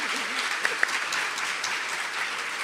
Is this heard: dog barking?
no